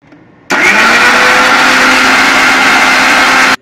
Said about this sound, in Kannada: ಈಗೊಮ್ಮೆ ಮುಚ್ಚಳ ತೆಗೆದು ಸ್ವಲ್ಪ ನೀರು ಹಾಕಿಕೊಂಡು ರುಬ್ಬಿ.